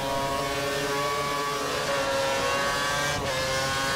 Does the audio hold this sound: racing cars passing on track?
yes